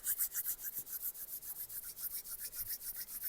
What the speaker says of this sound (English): let's just begin by rubbing our palms together in front of our hearts, creating some heat and building some energy